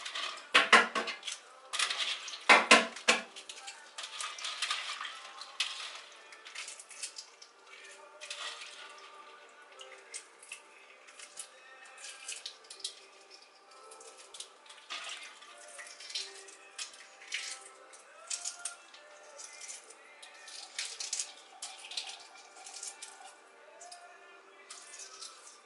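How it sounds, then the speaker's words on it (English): Soaked boiled eggs are peeled by hand over a kitchen counter, with soft crackling of shell, dripping water and occasional clinks of dishes and cutlery, quiet and close, with a brief louder clatter early on. "So I'm peeling the eggs right now."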